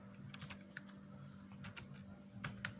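Keys clatter on a computer keyboard in soft, uneven bursts of quick clicks, close by over a faint steady hum, with no talk.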